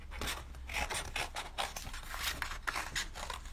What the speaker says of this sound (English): I'm going to cut out this template here.